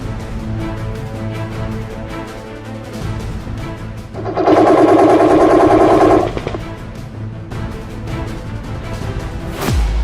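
Automatic gunfire at a military firing range used for tactical soldier training, a dense continuous rattle under heavy background noise that swells into a louder sustained burst midway.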